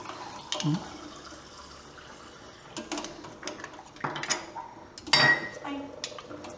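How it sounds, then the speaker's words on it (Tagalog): Mussel soup ladled from a pot: scattered clinks of a ladle against metal, a few liquid splashes and drips, close and moderately quiet, with faint background noise between the knocks. "sandok na po tayo ng sabaw at tahong"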